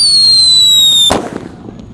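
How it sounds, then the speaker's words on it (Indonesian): A Mercon Whistling Thunder firecracker sets off a loud, steady high whistle for about a second, then a sharp bang ends it and fades into a brief rumble. "Mercon Whistling Thunder."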